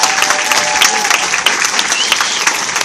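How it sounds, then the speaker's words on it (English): A crowd at an author signing event in Austin, Texas applauds warmly, close and steady clapping with crisp individual hand claps and faint crowd murmur underneath. "Let's give one more great round of applause for Richelle."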